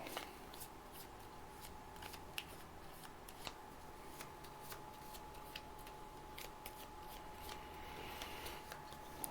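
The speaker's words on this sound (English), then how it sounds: "I'll add her to my deck, shuffle it up a little bit" Cards from a G.I. Joe deck-building game are shuffled by hand in a series of quiet riffling clicks and snaps, steady and close but faint, with no voices.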